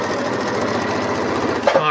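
A sewing machine stitches pieces of a quilt block in a steady, continuous whir close up. A brief clatter near the end sounds like a tool or the fabric being handled.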